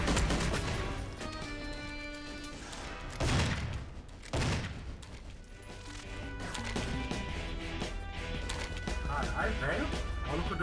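Gunshots ring out in the first-person shooter GoldenEye: Source, a couple of sharp loud blasts in the middle of dense game music and effects, with players talking over the mix.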